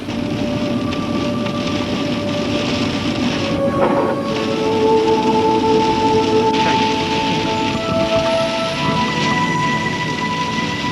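Heavy rain pours down steadily across open farmland, a dense continuous hiss with faint tonal hum in the background and no voices.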